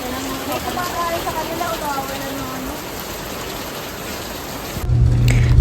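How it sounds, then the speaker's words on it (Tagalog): Heavy rain pours down in a steady, dense hiss, with people talking over it throughout, ending in a louder rumbling burst. "Lakas ng ulan, hindi kami makaalis."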